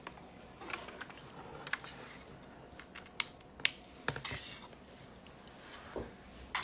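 Soft, irregular clicks of keys being pressed on a computer keyboard, scattered taps at close range in a quiet room, with no talking.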